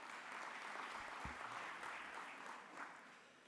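Steady applause from an audience at a small business conference, a dense even wash of clapping with no voices over it and a brief low thump partway through.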